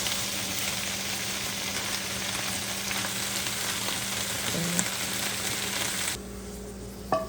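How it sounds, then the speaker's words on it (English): Bok choy, hand-cut into small pieces, stir-fried quickly in a pan, giving a loud, steady hiss of frying with a brief scrape of the utensil near the end before the sizzle drops away. "Mom's gonna fry it very quickly"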